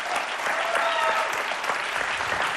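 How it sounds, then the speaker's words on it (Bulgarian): Studio audience applause on the Bulgarian game show Deal or No Deal as a contestant wins a 25,000 leva check, with dense, even clapping holding at a steady level throughout. "Сега искам силни аплодисменти за чек от"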